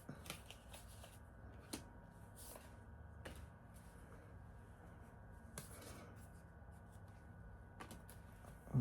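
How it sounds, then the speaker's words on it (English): Tarot cards are shuffled repeatedly at close range, soft riffling and shuffling under a low steady room hum, with occasional sharper flicks. "I'm going to shuffle one more time."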